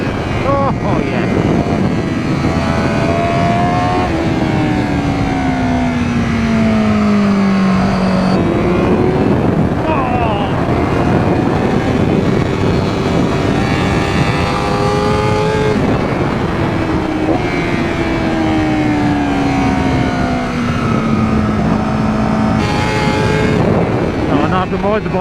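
A Honda Fireblade SP motorcycle engine runs while being ridden, loud and close, its pitch sweeping down through repeated gear changes and climbing again, with wind noise constant underneath.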